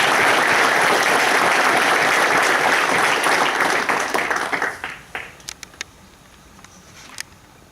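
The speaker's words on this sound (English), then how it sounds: "Let's give these well-deserving graduates a round of applause." A seated crowd at an army ordnance battalion graduation ceremony gives the new graduates a dense, steady round of applause that fades after about five seconds into a few scattered final claps.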